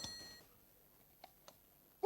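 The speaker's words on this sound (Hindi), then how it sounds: "इस घड़ी का अलार्म 2 बजे बज रहा है।" A clock alarm going off in the middle of the night: a short electronic beep at the very start, then near silence broken by a couple of faint clicks.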